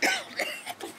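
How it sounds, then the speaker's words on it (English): A woman coughs close to the microphone inside a campground RV, a few rough bursts in about a second, loud and alone with no talk over it. "Quit coughing."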